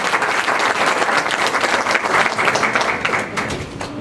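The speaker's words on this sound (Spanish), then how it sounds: "Les pido un fuerte aplauso para Pilar" An audience at a conference on LGBT rights breaks into loud, dense applause, a sustained roar of many hands clapping together that fades slightly toward the end.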